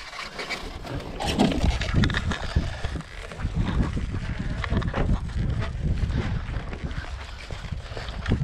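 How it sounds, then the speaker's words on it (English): Wind buffeting a microphone outdoors, a steady loud rumble with irregular gusty bursts throughout. "Oh my god, the wind."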